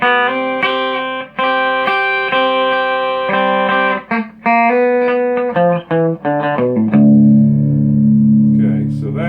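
Dry electric guitar chords ring out loudly through a Fender Twin amplifier with reverb off, strummed in short bursts with abrupt stops, then a lower sustained chord at the end.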